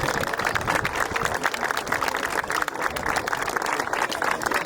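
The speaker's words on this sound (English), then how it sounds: "A big round of applause for KCLR." A crowd applauds during the presentation at the Leinster Junior Cup football final, with dense, steady clapping that holds at an even level for the whole stretch and no voices on top.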